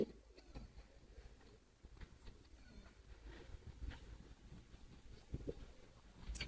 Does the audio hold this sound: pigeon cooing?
yes